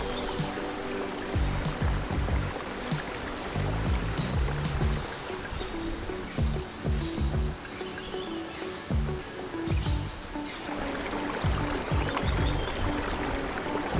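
A jungle waterfall in Bali pours in a continuous rushing roar, loud and close, with splashing water and faint pulses under the steady flow and no voices.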